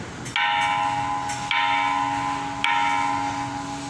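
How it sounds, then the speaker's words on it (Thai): A temple bell at an old Thai temple in Rayong, struck three times at roughly even intervals, each hit ringing out loud with a long sustained hum over faint background noise. "การตีระฆังเลยนะฮะ"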